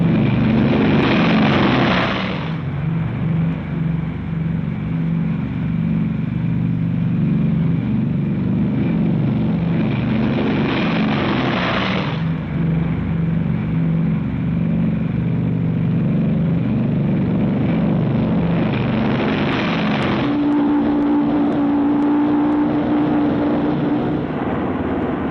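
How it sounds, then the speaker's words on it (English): A B-29 bomber roars on takeoff in 1945, its piston engines and propellers droning loud and steady for the whole stretch, with a brief swell near the start and again around the middle and toward the end. "B-29 takeoffs are a tough sweat."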